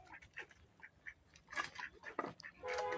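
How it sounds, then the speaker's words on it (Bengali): Two ducks in a backyard vegetable garden give a run of short, soft quacks, faint and somewhat distant, ending in a longer nasal call. "এর পাশে আবার হাঁস আছে দুটো।"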